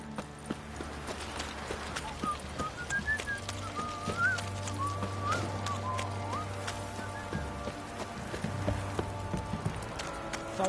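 Horse hooves clip-clop at a steady walking pace in The Witcher video game, fairly quiet under ambient background, with faint whistling and bird calls drifting over the top.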